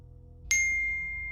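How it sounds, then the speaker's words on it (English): A phone gives a single bright notification chime for a new text message, a sudden clear ding over quiet low hum that rings on and slowly fades. "My phone buzzed."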